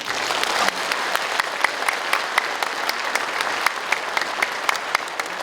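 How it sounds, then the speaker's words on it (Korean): Steady, even applause from an audience at the opening of a formal assembly, many hands clapping densely and moderately loud for several seconds with no voices over it. "여러분의 힘찬 박수로 시작하겠습니다"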